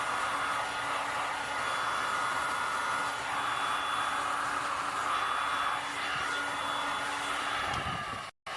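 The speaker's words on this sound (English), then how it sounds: "I go back and forth with the hairdryer" A hair dryer blows over a fresh resin art pour, a steady close whooshing roar running continuously before a brief click and drop at the very end.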